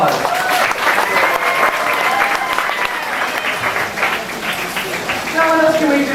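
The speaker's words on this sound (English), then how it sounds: "Let's give them both a big round of applause." Loud, sustained audience applause at a Disney-MGM Studios backlot tour show with a water tank, many hands clapping throughout, with cheering and crowd voices mixed in.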